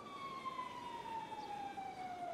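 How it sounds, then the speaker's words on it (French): Police sirens from the GTA RP video game wail steadily in one long descending tone, loud and continuous over low background rumble, with no talk. "Tu veux pas éteindre ces sirènes de mort, là?"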